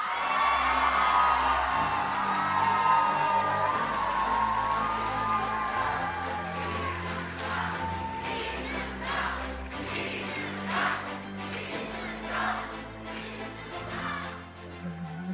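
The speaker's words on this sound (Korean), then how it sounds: "한 분 한 분 소개해 드릴 때마다 큰 박수를 주시면 감사하겠습니다." A crowd at a Reform Party national convention claps and cheers through a candidate introduction, a broad steady roar with whoops, under loud amplified music.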